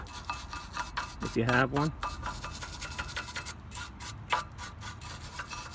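Brush scrubbing grime off a Honda Civic brake bracket: close, rapid rasping strokes in uneven bursts, with someone speaking briefly over the scraping.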